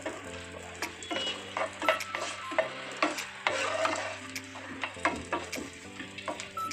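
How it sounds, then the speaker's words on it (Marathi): Black raisins frying in a pan, a steady sizzle with frequent quick stirring scrapes and light clinks, close and fairly quiet, with a low steady hum underneath. "मनुके फ्राय करत आहोत"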